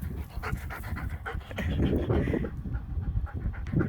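A dog pants rapidly and rhythmically close by, short breathy huffs continuing without pause, near a poultry area.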